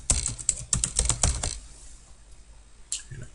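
Computer keyboard typing in a burst of about a dozen quick, close keystrokes over the first second and a half, then near silence, with one more faint click near the end.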